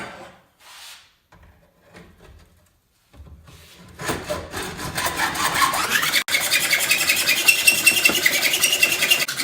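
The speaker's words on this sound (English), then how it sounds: "I'm just going to be using a hacksaw." A hacksaw cuts through a Yamaha Banshee silencer clamped to a bench. A few quiet knocks and shuffles come first, then close, loud, continuous rasping strokes of the blade on metal build and carry on to the end.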